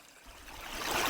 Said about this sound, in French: nous revoilà autour de cette jolie petite rivière, une rivière naissante